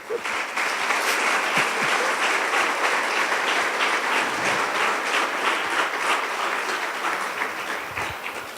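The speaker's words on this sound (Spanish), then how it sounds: "denle un aplauso al Señor" A church congregation applauds steadily, a dense continuous clatter of hands that holds level for about eight seconds before easing slightly at the end.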